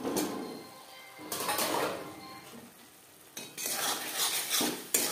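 Fish curry in a pan being stirred and covered with a lid: scraping stirring and metal clatter come in close bursts over a soft background sizzle.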